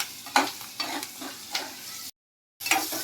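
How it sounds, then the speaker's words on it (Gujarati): Green chillies sauté in a hot pan with a steady sizzle and a few sharp stirring scrapes, broken by a brief silent gap before the frying resumes. "મરચા સાતળી નાખવાના"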